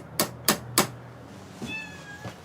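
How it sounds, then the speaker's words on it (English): A house cat in a home built into a steep hillside in Appalachian coal country gives a short, high meow, preceded by three sharp knocks on the front door. "That's their cat, Oliver."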